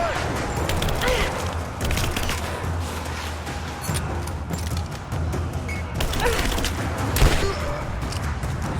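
Gunfire and explosions in the game Rise of the Tomb Raider, with bursts of shots, thuds and crashes over a rumbling battle, and a voice shouting over the fighting.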